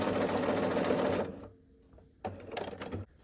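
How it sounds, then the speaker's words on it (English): A sewing machine runs a quarter-inch seam along a quilt block, a brisk close burst of stitching that stops abruptly, then a shorter second run after a quiet pause. "we're gonna sew down this length here with 1/4 of an inch seam allowance"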